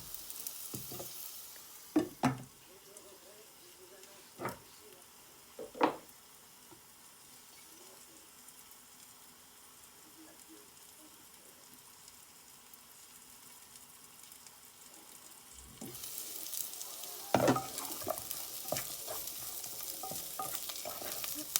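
Chorizo and rice cooking in a pan, a soft, low sizzle with occasional stirring scrapes and clinks, growing louder and hissier near the end.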